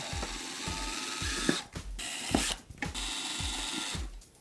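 A cordless drill bores pilot holes for desk screws, producing a rhythmic series of ratcheting mechanical bursts about twice a second, broken by a couple of short pauses.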